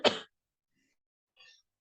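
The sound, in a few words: cough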